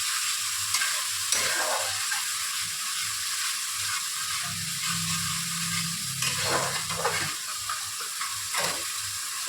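Spice paste with a splash of water sizzles and is stirred in a pan for Bengali eggplant curry, a steady close frying hiss broken by scraping stirs of a spoon against the pan, with no talking.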